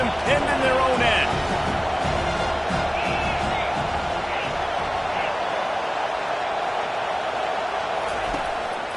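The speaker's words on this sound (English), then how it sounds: "The roar of the crowd trying to fuel this defense to keep them pinned in their own end" A roaring stadium crowd at an American football game, urging on the defense, with a dense, sustained wash of noise and scattered whoops under a commentator's voice.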